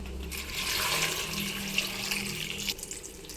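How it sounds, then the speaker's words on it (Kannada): Water is poured into a cooking pot of cut brinjal and potato for sprouted-gram sambar, a steady close splashing pour lasting a few seconds. "ಮುಳುಗಷ್ಟು ನೀರು ಹಾಕ್ಕೊಳ್ಳೋಣ"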